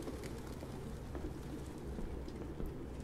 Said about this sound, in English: Oh wow, that is a lot of pigeons.